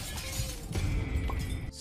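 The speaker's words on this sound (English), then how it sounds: "you'll know because of the sound of shattering glass." Glass shatters loudly in the Roblox horror game Dandy's World, a dense crashing burst followed by scattered tinkling fragments, heard alone with no speech.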